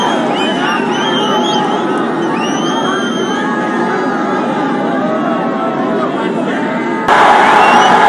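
A large political rally crowd at a Lahore jalsa during Imran Khan's 2022 Azadi March roars with dense, sustained cheering and shouting, loud and continuous throughout, with a brief surge of brighter, louder noise near the end.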